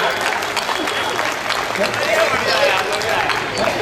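At a Hindi comedy poetry gathering, the audience breaks into a lively, sustained round of clapping, a dense crackle that rises and holds while the performer's voice carries over it.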